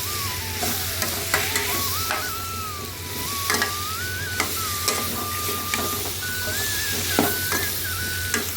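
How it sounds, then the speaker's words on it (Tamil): Masala stirred and fried in a pan for a Chettinadu pumpkin tamarind curry, a steady sizzle with spoon scrapes and clinks against the metal, close and continuous without talk. "எல்லாத்தையும் நல்லா அந்த மசாலா எல்லாமே சேர்கிற மாதிரி பரட்டி வச்சுக்கணும்"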